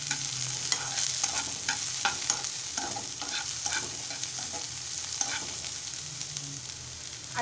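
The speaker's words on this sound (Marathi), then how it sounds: "आता मिश्रण छान एकजीव करून घेऊया" Finely chopped onion frying in a pan for Maharashtrian-style egg bhurji, a continuous close sizzle with repeated scraping stirs of a spatula throughout, no voices.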